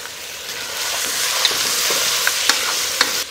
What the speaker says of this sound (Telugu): మటన్ ముక్కల్ని నూనెలో వేసి ఒక 4-5 నిమిషాలు వేయించుకోండి